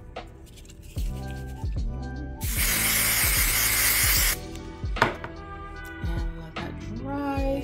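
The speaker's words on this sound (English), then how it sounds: "Gonna spray this bit here." A spray bottle hisses in one long burst of about two seconds, close by, spraying wig hair, between soft clinks and brief handling noises.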